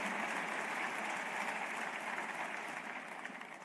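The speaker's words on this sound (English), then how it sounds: "please give her another round of applause" A large audience claps steadily for Dua Lipa at a leadership awards ceremony, dense continuous applause that holds throughout and slightly tapers at the end.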